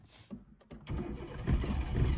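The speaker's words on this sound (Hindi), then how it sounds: "अब वापस क्लच दबा के इंजन ऑन करो" A car engine cranks and catches after the clutch is pressed during a driving lesson, a short starter burst followed by the engine settling into a steady, fairly loud idle.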